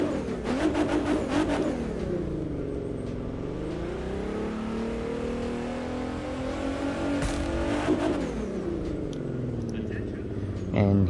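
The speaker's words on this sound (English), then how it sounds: "so here's the engine noise." A car engine in the video game The Crew 2 revs up and down in smooth, sweeping surges, rising and falling pitch repeatedly, with a voice speaking over parts of it.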